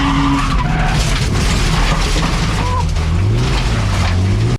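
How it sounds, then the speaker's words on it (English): A BMW E36 drifting on low spring load, tires skidding and squealing loudly and continuously with engine drone underneath, close and sustained throughout. "it kind of gave me the feeling that I was drifting on one wheel"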